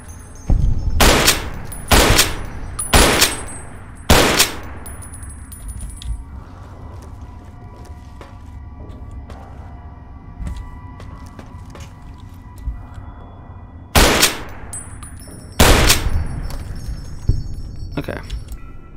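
Bursts of gunfire in the modded Fallout New Vegas game, several loud sharp volleys early on, then a lull with faint mechanical clatter before more shots near the end.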